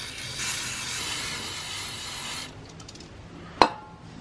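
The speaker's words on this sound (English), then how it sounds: "we're gonna spray it with the brake clean" A steady aerosol spray of brake cleaner from a can hisses for about two and a half seconds, then stops, followed by a single sharp metallic clink.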